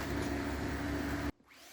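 A belt sander grinds across a boat top with a loud, steady roar that cuts off abruptly after about a second, leaving a faint fading hum.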